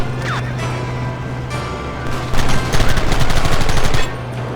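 Gunfire in Red Dead Redemption Remastered: a few scattered shots over background noise, then a loud rapid burst of repeated shots for nearly two seconds before it stops.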